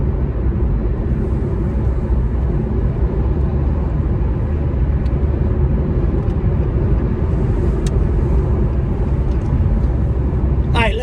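Car cruising along a road in light rain, a continuous loud low rumble of tyres and engine with steady road hiss, heard from inside the vehicle.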